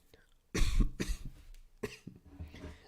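Three harsh coughs up close, two in quick succession and a third after a short pause, followed by a softer throat-clearing rasp.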